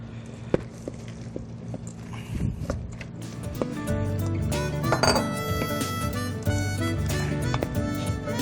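A utensil tosses quinoa salad with dressing in a bowl, making close, irregular clinks and scrapes against the dish over steady background music.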